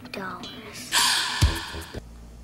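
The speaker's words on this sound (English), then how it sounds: "Did the film score just gasp?" A sharp, breathy gasp sounds within the orchestral film score of Blank Check, a sudden inhaled swell lasting about a second, followed by a low thud and fading music.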